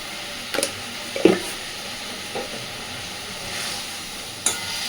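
Cauliflower and potatoes fried with spices over medium-low gas sizzle steadily in a pan, broken by a few sharp scraping clinks of a spatula stirring, close and without speech.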